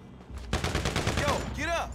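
Pistol fire in the video game GTA Online during a Grove Street survival challenge: a rapid, close volley of cracking shots with someone shouting over the end of the burst.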